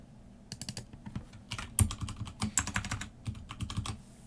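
Keys clatter on a computer keyboard in quick, irregular bursts of close, crisp clicks, typing steadily with short pauses and no voices.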